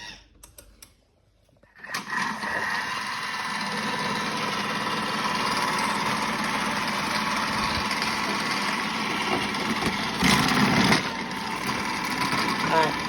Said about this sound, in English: get the blade spinning in advance before I start putting potatoes in